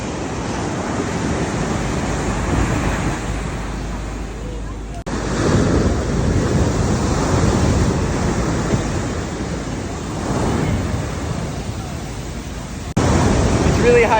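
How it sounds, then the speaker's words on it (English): Big, heavy waves at high tide on T-Rex Beach, Nusa Penida, Bali, roll in as a steady broadband roar of surf and wind buffeting the microphone, swelling louder in surges across the recording. "The waves are pretty big and heavy, kind of Cabo style."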